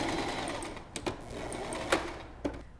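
A sewing machine stitches a half-inch seam with a steady low mechanical hum and a few sharp clicks or thumps spaced through it, close by and with no voices.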